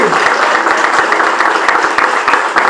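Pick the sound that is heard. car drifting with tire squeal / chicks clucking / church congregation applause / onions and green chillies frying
church congregation applause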